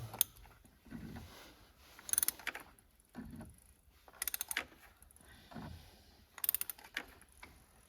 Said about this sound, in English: There's a wrench for the filter.